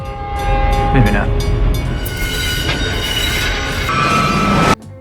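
A train rumbles past on railway tracks, with a loud, steady roar and metallic squeals and clatter, then stops abruptly near the end.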